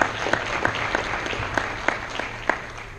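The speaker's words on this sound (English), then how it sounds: "you should give yourselves a round of applause" Moderate applause from a gathering at a Masonic Lodge of Sorrow memorial ceremony, a fairly sparse patter with individual sharp claps standing out through the three seconds.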